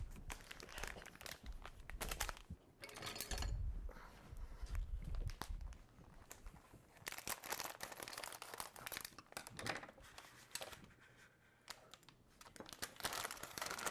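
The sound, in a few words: opening packets with scissors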